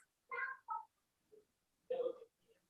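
A cat near the camera meows close and clear: two quick meows, a short soft sound, then a longer, louder meow and a faint trailing one, in a quiet room.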